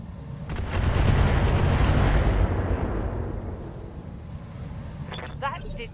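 Mech weapons in the RogueTech mod of BattleTech let loose a heavy, rumbling barrage of artillery-like booms that swell early and then fade into a long decaying roar, with a few faint clicks near the end.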